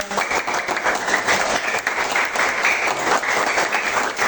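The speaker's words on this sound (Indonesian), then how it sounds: "Tepuk tangan." An audience claps steadily at a school class presentation, a dense, even patter of many hands that holds for several seconds with no voices above it.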